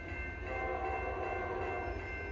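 Norfolk Southern freight train 23K rolls past in Massachusetts with a foreign MEC locomotive trailing, giving a steady, fairly close rumble with a constant mechanical drone and no clear horn blast.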